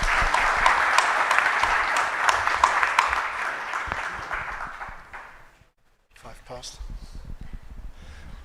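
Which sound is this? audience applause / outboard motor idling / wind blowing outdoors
audience applause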